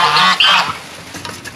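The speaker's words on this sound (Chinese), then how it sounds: "鸭子热情地打招呼" Ducks calling at a lake on a school campus, with black swans and mallards nearby: a loud, close, honking call in the first half second, then quieter scattered quacks fading out.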